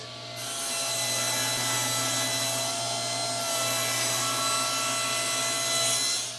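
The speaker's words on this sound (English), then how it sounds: "I'm going to rip these pieces to 3 1/8" Saw ripping solid wood pieces to width, a loud continuous cutting roar with a steady motor hum underneath, the tone shifting slightly as each piece feeds through; no talk.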